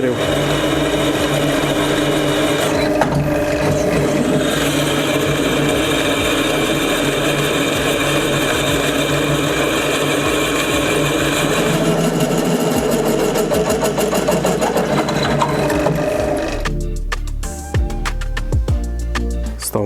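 GTM ZJW4116 variable-speed drill press in a workshop, drilling with a 16 mm bit; a steady motor whine and cutting grind carry on throughout, shifting to a sparser clicking texture near the end.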